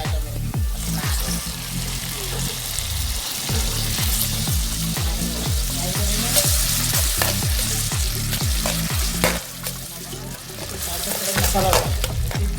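Tomatoes tossed into fried onions, curry leaves and cumin, sizzling loudly while a spoon scrapes the pan in a quick regular rhythm, close up with no talk.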